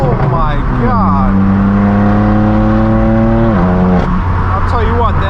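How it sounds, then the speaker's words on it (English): Straight-piped BMW M4 F82 engine droning loud and close, holding steady revs with a rising pitch before dropping as it shifts, then revving again, with some voice mixed in. "the M4 is sounding exceptionally good today"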